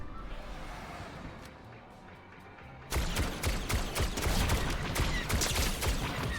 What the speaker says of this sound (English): Oh, gunshots. Oh, at us.